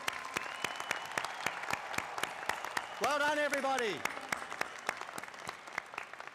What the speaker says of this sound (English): One more round of applause for all of our graduates.